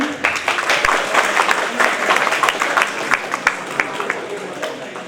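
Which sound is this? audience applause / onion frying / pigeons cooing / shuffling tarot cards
audience applause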